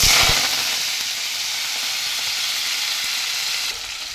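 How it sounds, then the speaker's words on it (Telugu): Cumin seeds and fenugreek leaves hit hot oil in a kadai, giving a bright, steady sizzle that bursts loudest at the start, then settles into a constant close frying hiss with no voices. "ఇప్పుడు దీంట్లోకి కొంచెంగా జీలకర్ర, ఇదిగోండి మెంతాకైతే వేసేసుకోవాలి."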